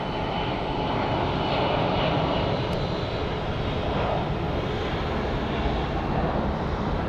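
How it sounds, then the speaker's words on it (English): A JSX jet comes in to land at Phoenix Sky Harbor airport, its engines making a steady, broad roar that holds at an even level throughout with no voices over it. "we're going to cut back and film the JSX landing."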